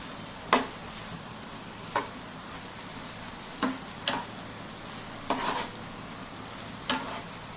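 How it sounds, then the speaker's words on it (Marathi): Cabbage manchurian stir-fried in a pan with red chilli sauce and soy sauce: a soft steady sizzle broken by about six sharp scraping spatula strokes at irregular intervals, close up, with no voices. "आता छान परतून घेऊया"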